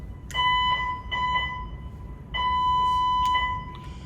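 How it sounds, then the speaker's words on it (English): Cruise ship muster station alarm aboard the Silver Nova sounding in two bursts of repeated electronic beeps, a steady high tone pulsing several times, then a pause and a second run of beeps, loud over low background hum. "So any selection of beeps at any different duration could mean that you needed to go to your muster station"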